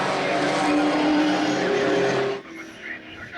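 A race car at a drift racing event launches hard off the line, its engine roaring loudly while the tires screech in a sustained squeal, then cutting off sharply and leaving quieter background noise.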